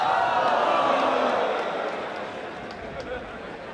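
A pool hall crowd at the 2024 Mansion Sports Hanoi Open 9-ball semi-final murmurs and buzzes as the 9-ball rolls near a pocket, a steady hum of many voices that swells and then slowly eases.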